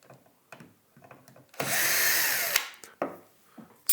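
A 20-year-old sewing machine runs in one loud continuous whirring burst of about a second, between quieter clicks and handling knocks of the mechanism.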